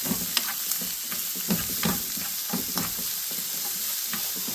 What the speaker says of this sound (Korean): 센 불에서 조금 더 볶아주도록 하겠습니다